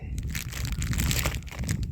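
A plastic bag crinkles and rustles up close in quick, irregular crackling bursts, with handling noise throughout.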